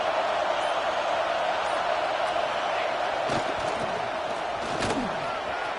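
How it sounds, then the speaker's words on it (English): A dense, steady roar from a large college football stadium crowd during a game fills the space, with a couple of sharp thuds cutting through around the middle. "This crowd bringing the energy and noise early."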